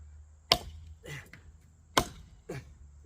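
Four crisp, close chops of a Gladiator knife biting into solid wood, coming in two pairs of a hard blow followed by a lighter one, with no talking.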